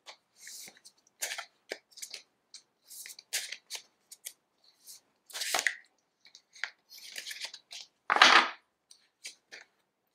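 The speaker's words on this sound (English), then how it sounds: "I also feel called to pull one of these Animal Oracle cards" An Animal Oracle card deck is handled up close, with quick, crisp card slides and flicks coming in irregular bursts. A louder riffle of the cards stands out near the end.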